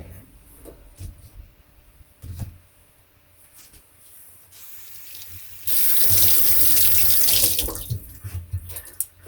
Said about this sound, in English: So I wash my hands clean before I rub it in